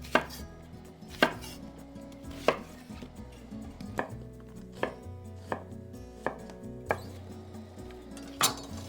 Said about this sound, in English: I'm going to slice up an onion to go with it